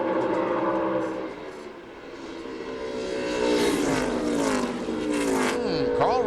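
Stock cars racing at the 2005 Arizona 200, engines wailing loudly as cars pass close by, pitch sweeping down and back up, with a commentator talking over the roar.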